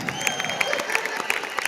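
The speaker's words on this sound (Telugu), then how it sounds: "మా గ్రేట్ అప్లైన్ గురించి ఒకసారిగా జోర్దార్ క్లాప్ करो" A crowd at a large indoor event claps together, a dense, steady wash of applause with a few sharper claps standing out, recorded from inside the audience.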